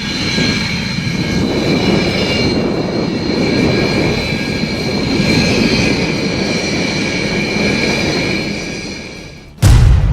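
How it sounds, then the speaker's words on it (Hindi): Fifth-generation fighter jets fly at an air show, producing a loud, sustained roar that rises and falls slightly over ten seconds, ending with a sharp burst of noise. "यहाँ दुनिया भर के लड़ाकू विमान अपने बाहुबल का प्रदर्शन कर रहे हैं।"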